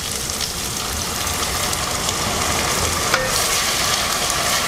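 Red Cabernet Sauvignon wine poured into a hot pan of browned beef and cooked tomato paste, giving a steady close hiss and sizzle that runs throughout with no talking.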